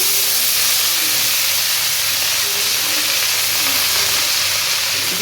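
Leafy greens (shak) hitting a hot pan throw up a loud, continuous hissing sizzle, close and dense, with no talk over it.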